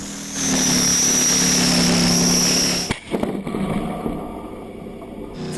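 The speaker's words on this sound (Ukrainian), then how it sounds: "Т-64 виїжджає на тренування. Гул мотора цього танка не порівняти з іншими." A Ukrainian army T-64 tank, a machine over fifty years old and just repaired after enemy damage, drives out for training. Its engine gives a loud, steady rumbling roar, then a sharp jolt partway through, and keeps rumbling as it pulls away.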